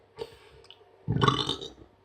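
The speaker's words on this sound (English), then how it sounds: "If I burp, sign of a good beer." A man gives a single loud, rumbling burp after drinking Reinbacher pilsner beer, preceded by a soft swallow or gulp, close to the microphone in a quiet room.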